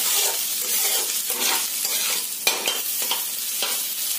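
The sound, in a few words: egg and potato being fried together in a pan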